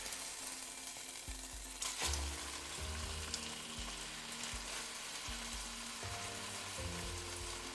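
Beef sears and sizzles in a pan at the start of a braise, a steady close crackling fry with low clinks and scrapes throughout, and no voices.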